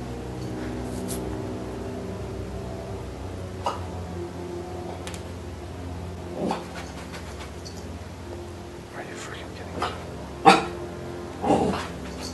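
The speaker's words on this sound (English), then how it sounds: "What are you barking at, Zoe?" A dog at home barks a few times indoors, with short, sharp barks spaced several seconds apart over a steady low background hum.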